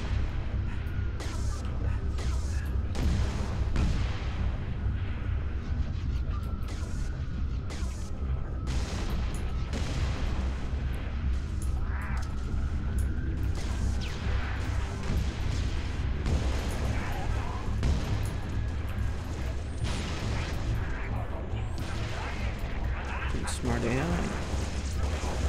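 Bazooka explosions from a Halo: Reach match, a dense run of heavy booms and rumbling blasts that fills the whole stretch under a steady bed of game noise, with voices talking throughout.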